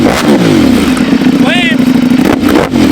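A Ducati Panigale V4S motorcycle with an $8500 aftermarket exhaust revs loudly close by, its deep engine drone rising and falling across a few throttle blips, with people talking excitedly over it.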